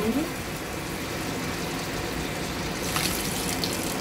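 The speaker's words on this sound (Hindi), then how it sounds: "थोड़ा सा पानी डाल के भूनूंगी।" Water splashes into a hot pan of frying spices and red chilli for pakora kadhi, giving a steady hiss and gush throughout with a brighter surge near the end.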